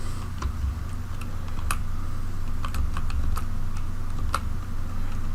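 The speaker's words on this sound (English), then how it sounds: "we can start typing in products right away." Keystrokes on a computer keyboard as product entries are typed in, a loose run of quick, close clicks and taps over a steady low hum.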